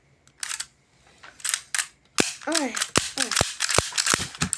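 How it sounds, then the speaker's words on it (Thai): A toy cap gun fires sharp snapping pops, a few sparse shots at first and then a quicker burst, with faint mechanical clicks between them. "มันเป็นปืนแบบแค่เสียงอะยิงอย่างเงี้ย"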